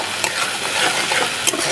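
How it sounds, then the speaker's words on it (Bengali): A spice paste of chili, onion, garlic and tomato is stirred into hot oil for an okra and prawn dish, with a continuous close sizzle broken by a few sharp utensil scrapes. "মশলাটাকে তেলের সাথে মিশিয়ে নেব"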